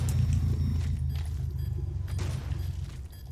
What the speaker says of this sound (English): that car out there is making a whole lot of noise that's coming through the mic